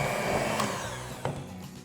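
An electric mixer whirs close by as it beats flour and salt into lemon butter cookie dough, a steady motor drone that dips slightly with a couple of brief clunks, and no one speaks.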